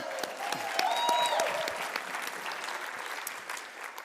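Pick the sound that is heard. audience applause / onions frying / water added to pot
audience applause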